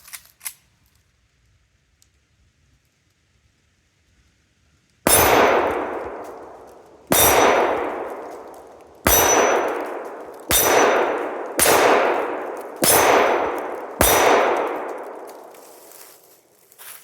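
A Sig Sauer P938 pistol firing 124 grain Aguila ammunition: seven loud, sharp shots at irregular intervals, each ringing out with a long decaying echo, outdoors and without talk.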